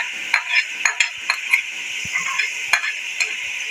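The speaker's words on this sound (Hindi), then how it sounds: "अब हम इसमें टमाटर शामिल कर देंगे और ऐसे ही इसको भूनेंगे" Tomatoes are fried and stirred in a pan for desi chicken, with a steady hiss of sizzling oil under repeated clinks and scrapes of a spoon against the pan.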